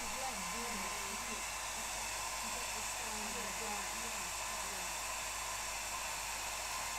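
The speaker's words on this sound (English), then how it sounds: "if I get the hairdryer on that, which is probably a bit easier" A hairdryer blows steadily up close to dry gouache paint, giving an unbroken loud whooshing hiss that lasts the whole stretch, with a faint voice murmuring underneath.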